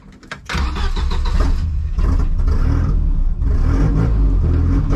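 A panel wagon running on an ethanol mixture fires up with a short cranking burst, then its engine settles into a loud, close idle that briefly dips and picks back up.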